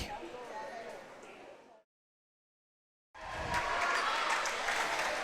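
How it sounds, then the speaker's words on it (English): Crowd cheering and applause at a girls' high school volleyball match between Los Altos and Mountain View, a loud broadband roar that cuts to silence midway and returns even louder. "The crowd is getting into it here on both sides"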